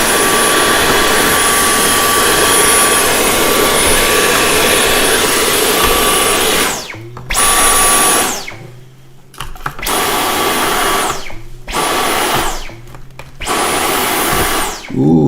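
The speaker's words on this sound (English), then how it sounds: "I'm getting a vacuum cleaner out on it." A vacuum cleaner whines loudly and steadily while cleaning dust out of an arcade joystick, cutting off and restarting several times in the second half as the nozzle is moved or switched.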